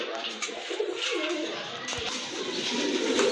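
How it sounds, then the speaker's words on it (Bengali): Several pigeons for sale at a Bangladeshi bird market coo softly and repeatedly through steady background crowd noise, with faint chatter mixed in. "এই যে দেখেন কবুতরগুলো খুবই সুন্দর মাসাল্লাহ"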